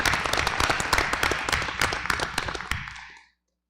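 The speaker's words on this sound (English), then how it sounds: "we'll give him a clap" A school board meeting audience applauding an absent student award recipient, a short burst of scattered hand claps that stays fairly even, then tapers off and stops abruptly after about three seconds.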